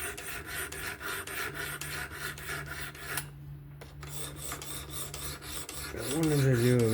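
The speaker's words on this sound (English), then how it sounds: "I wanted to do a really good sharpening for once." Spyderco Kapara knife with an S30V steel blade being sharpened on a fixed-angle sharpener, giving steady repetitive rasping strokes up close, a brief pause midway, then a louder scraping burst at the end.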